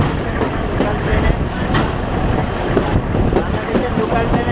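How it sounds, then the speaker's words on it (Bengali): Inside a carriage of the Mahananda, a Bangladeshi local train, a loud, constant rumble mixes with rattling and jolting clatter, irregular knocks and brief metallic clanks over the din. "এই যে শব্দ ঝাঁকুনি, এটা একমাত্র বাংলাদেশের লোকাল ট্রেনেই সম্ভব।"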